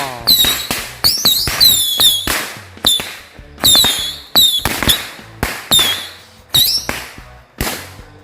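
A 25-shot mercon tikus box of firecrackers set off at night in Ramadan, firing a rapid irregular series of sharp bangs and whistles over several seconds, loud and near.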